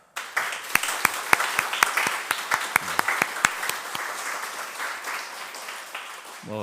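A church congregation applauds during a Sunday worship service, a steady wash of many hands with a few sharp, close claps standing out, holding for several seconds before thinning at the end.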